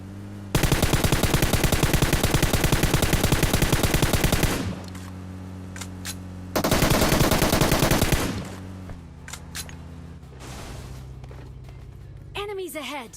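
Loud, dense automatic gunfire from PUBG Mobile, a sustained rapid burst for about four seconds, a pause, then another long burst, followed by quieter game ambience and a brief voice.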